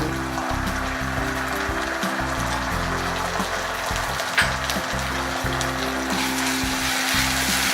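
Ginger garlic paste frying in hot oil for egg masala, a steady sizzle running throughout at moderate level, with a constant low hum underneath.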